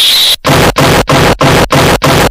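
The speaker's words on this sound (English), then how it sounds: "Activating explosions." Explosions in the Roblox video game sound as a rapid string of six loud, identical bursts about a third of a second apart, each one harsh and distorted, with no talking.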